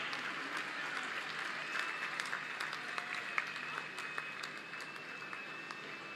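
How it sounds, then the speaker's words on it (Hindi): An audience at a sports medal felicitation event applauds continuously, a fairly faint, steady wash of many hands clapping from a distance with no pauses. "तो तालियां रुकनी नहीं चाहिए आपकी"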